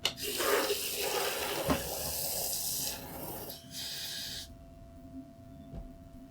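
Tap water runs into a home-brewing container being filled to 3 litres, a bright splashing rush that changes pitch as the level rises, then cuts off into quiet dripping and small knocks.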